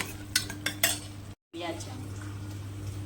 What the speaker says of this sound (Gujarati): ક્વોન્ટિટી અનુસાર મીઠું, મરચાંની પેસ્ટ નાખીને આપણે એને હલાવી દઈશું, મિક્સ કરી દઈશું.